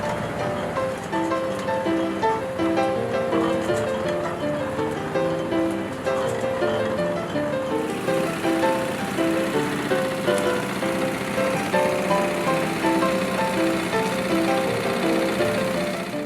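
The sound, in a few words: carding machine running at a woolen mill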